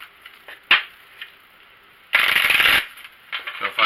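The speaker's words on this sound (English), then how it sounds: "the way I shuffle the cards to get a turn every time I shuffle is I break them sideways" Tarot cards shuffled by breaking the deck sideways, a brief riffle burst then a longer papery rush mid-clip, close and fairly loud, with quieter flicks and handling around it.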